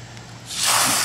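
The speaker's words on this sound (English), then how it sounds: "Just spray them out right into the dirt." A garden hose spray blasting pest eggs off cabbage plants into the dirt, starting as a soft hiss and swelling into a loud, steady rushing spray over the second half.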